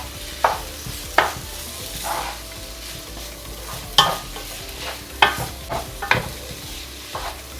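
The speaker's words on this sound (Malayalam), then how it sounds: "1 മിനിറ്റോളം വീണ്ടും വഴറ്റി കൊടുക്കുക" Prawn biryani masala being sautéed in a pan, a low sizzle punctuated by a series of sharp spatula scrapes and clinks at uneven intervals, close and fairly loud.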